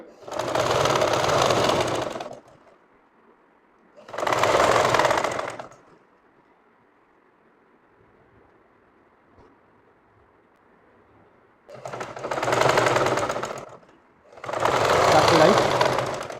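Sewing machine stitching a shirt back panel: four loud, close bursts of rapid mechanical whirring, each lasting one to two seconds, separated by pauses filled with a faint hum.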